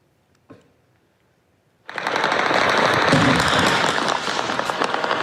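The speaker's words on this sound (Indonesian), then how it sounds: "rentetan senjata dan ledakan terdengar di berbagai titik kota Erbil" After a single sharp crack and a brief silence, a dense burst of rapid popping gunfire erupts and keeps going, loud and continuous, amid explosions in the city of Erbil, Iraq.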